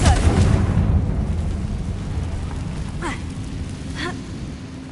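Spell explosions from Bombarda and Confringo in Hogwarts Legacy: a loud booming blast at the start that decays into rumble, followed by two shorter sharp bursts about a second apart.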